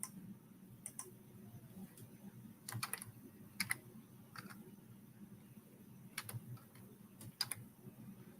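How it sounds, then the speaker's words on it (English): Fingers type on a computer keyboard, faint scattered key clicks in irregular short bursts over a quiet room hum. "Okay, now I start typing."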